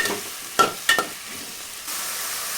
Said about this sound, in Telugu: తరువాత అంతా కలిసేటట్టు ఇలా ఒకసారి బాగా కలుపుకోవాలి.